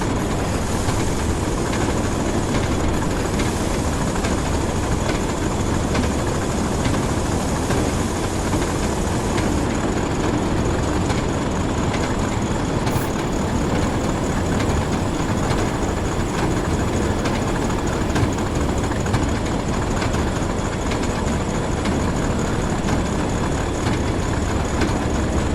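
A train in the Train Sim World game on the Tees Valley Line rumbles and rolls continuously as it brakes, a steady loud drone of wheels and engine with faint rhythmic clicks throughout.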